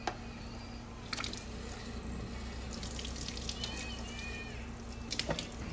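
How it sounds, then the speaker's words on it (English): Water runs steadily while conditioner is rinsed out of hair, a constant, soft hiss with faint squishy handling noises and no talking. "We're gonna let that water come down."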